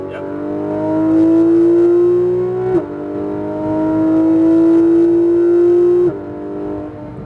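A Porsche GT3 RS engine on a track climbs steadily in pitch under acceleration, then drops sharply at each of two upshifts before rising again, loud, close and continuous.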